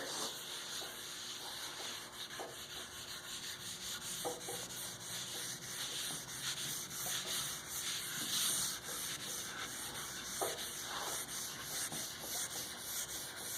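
Dyed curly maple being hand-sanded, a continuous close rubbing and scratching with a soft, even rhythm and no speech.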